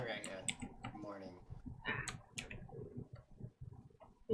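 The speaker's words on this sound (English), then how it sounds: "Sorry. I was typing." Soft clicking keystrokes on a computer keyboard, faint and irregular, tapping away beneath people talking during a tabletop role-playing session.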